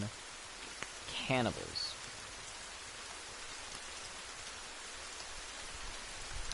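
Steady rain falls in The Forest video game as broadband hiss throughout, with someone briefly speaking over it.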